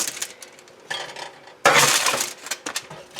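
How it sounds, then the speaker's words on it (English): Meatballs dropped one after another into a casserole dish, giving clinking, clattering dish contacts in bursts, the loudest and longest near the middle, then fading rattles. "I'm going to drop them in the bottom of my casserole dish"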